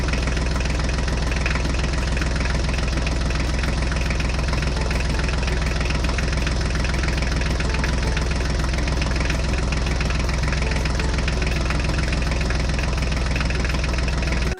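A Mahindra tractor engine runs continuously, a loud, dense idling rumble with knocking throb, steady and unchanging throughout with no talk.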